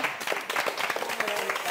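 Brief burst of studio audience clapping during a K-pop music show interview, a dense patter of hands at moderate level with a voice mixed in.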